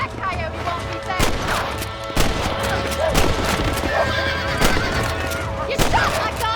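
A horse neighs and whinnies repeatedly in the Red Dead Redemption video game, loud and close, over hoofbeats and sharp gunshot cracks, with a voice shouting in the scene.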